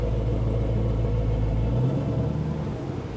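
A Ford 302 V8 in a Nissan S14 idles with a deep, steady rumble while being parked on a dyno, then drops off abruptly partway through, leaving quieter, uneven low engine noise.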